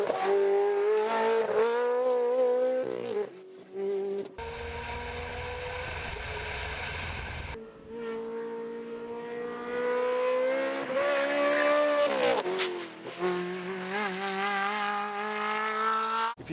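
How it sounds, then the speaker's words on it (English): A Ferrari 360 Challenge race car running on the Simola hillclimb track in Knysna. The engine is loud and close, with a harmonic roar that rises and falls through revs and gear changes, and the sound cuts to a different stretch briefly midway. "the sheer urge and responsiveness of the 360 Challenge. And besides, this has to be one of the best-sounding race cars around"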